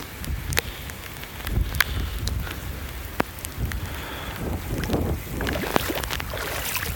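Gusty wind buffets the microphone in low rumbling bursts during flooding in Merritt Island, Florida, with steady splashing water noise underneath and no voices.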